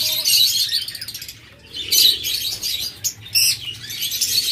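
Red lovebirds, a pair, chirp and tweet in quick bright bursts, with short pauses between calls and a low background hum; no one speaks.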